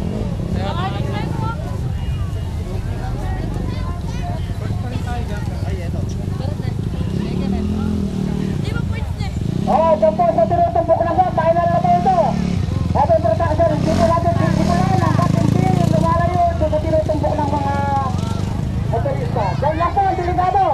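A motocross motorcycle engine drones and revs at a motocross invitational in La Paz, Tarlac, where a bike appears to have broken down, mixed with crowd chatter and people talking nearby.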